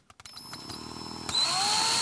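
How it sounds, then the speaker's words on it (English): A power drill whirs close by after a few taps, its motor pitch climbing as it bites in, then running louder and steady. "drill some holes"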